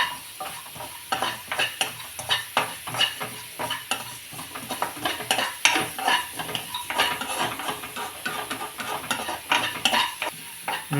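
Chana dal with white and black sesame seeds dry roasting in a pan, with continuous quick stirring scrapes and a light dry sizzle, close and busy without pause, no voices.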